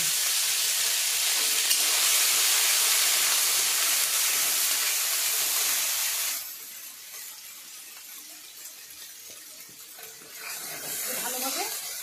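Green pea paste is added to hot white oil tempered with black cumin seeds in a wok and fries with a loud, steady sizzle that drops abruptly to a quieter hiss, then a light stirring scrape.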